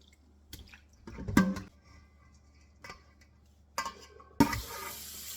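Dried bitterleaf is washed by hand in water. Quiet, intermittent splashes and sloshes come in a few separate bursts, with near silence between them.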